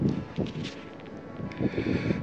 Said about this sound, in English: It'd be okay without the wind.